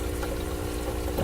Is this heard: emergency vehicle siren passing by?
no